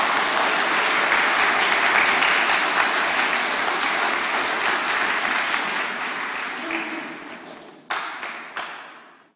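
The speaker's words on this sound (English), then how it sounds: "Give them a little round of applause." A church congregation at Sunday Mass applauds with dense, sustained clapping that gradually thins out, ending in a few scattered louder claps.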